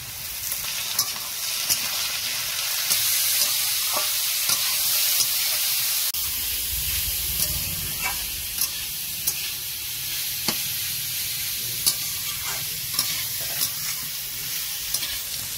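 Chopped capsicum and carrot frying in a pan for chicken momo filling, a steady close sizzle broken by repeated scraping stirs and clicks of the spatula, with no talking.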